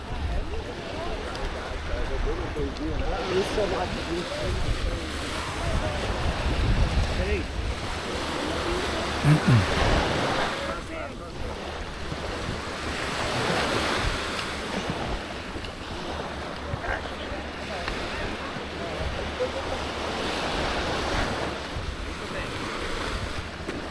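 Ocean surf washing onto the beach at Canasvieiras, with rolling swells of noise rising and falling under steady wind buffeting the microphone and some talking.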